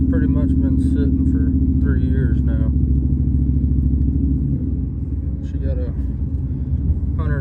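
A third-generation car, the old 'Bubba' project, idles and runs with a steady low engine rumble throughout, close and loud, while a person talks over it.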